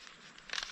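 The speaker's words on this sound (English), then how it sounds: "Plastic bag" Plastic bag from a small summer survival kit crinkling at close range, a soft rustle that swells into a brief louder crackle near the end, with no talking.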